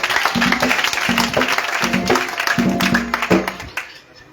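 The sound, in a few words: congregation applauding and acclaiming Jesus at worship service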